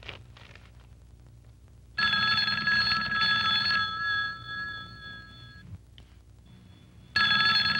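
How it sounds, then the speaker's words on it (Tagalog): Telephone ringing indoors in a Tagalog comedy film, a loud electronic bell trill lasting several seconds, pausing, then starting again near the end over faint room noise. "The phone is ringing."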